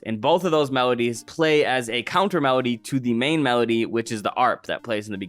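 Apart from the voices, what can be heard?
None of the usual background noises is heard.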